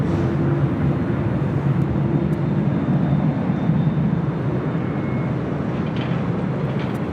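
A jet airliner rolls for takeoff at LAX, a steady, loud, broadband engine roar that holds unchanged throughout, with no voices.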